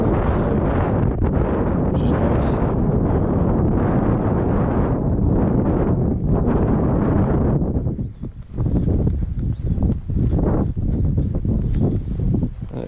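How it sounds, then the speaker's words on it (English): Strong wind blows across an open Dartmoor tor near Fur Tor in the morning, a loud continuous rumbling roar buffeting the microphone, easing briefly before gusting back in. "Like we say, wind's up."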